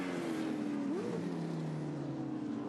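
A big Ford Falcon race car thunders through the final turns at Pukekohe, a continuous deep engine note that rises and dips in pitch as it shifts and passes.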